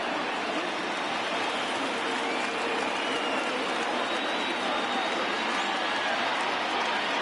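A packed stadium crowd of over 39,000 in the MLB The Show 20 baseball game, Cubs versus Brewers, gives off a constant loud roar that holds steady throughout.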